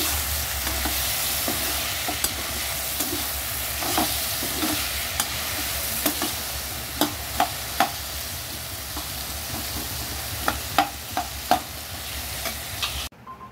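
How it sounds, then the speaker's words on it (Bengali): Luchi fries in hot oil, giving a constant loud sizzle with sharp crackling pops that grow more frequent toward the end, then a sudden stop. "এই লুচিটা ভাজা হচ্ছে"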